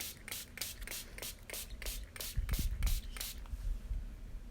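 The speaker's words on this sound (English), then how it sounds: "I have a little spray bottle with some coffee in it." Rapid, evenly spaced hissing bursts of a spray bottle spraying coffee onto paper, about a dozen quick squirts in a row, close by, with faint handling noise underneath.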